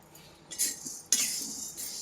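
Fasting flour mix of roasted sago being stirred in a kadhai over high heat, with light metallic scrapes and clinks of a spoon against the pan in short separate bursts, fairly quiet and close.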